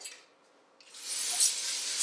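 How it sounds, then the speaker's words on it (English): Cooking oil spray hisses from an aerosol can into a slow cooker, a short burst followed by a longer, steady spray, close and fairly quiet. "before you put the food in, spray with cooking oil spray"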